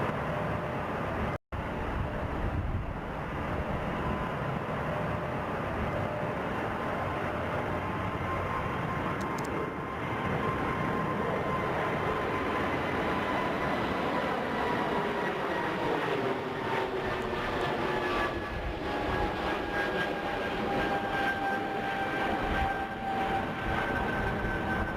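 Airbus A220 jet engines spool up and roar steadily through a takeoff run in Microsoft Flight Simulator 2024, a sustained whine with rising tonal lines that climbs in pitch over the run, loud and continuous with no talking.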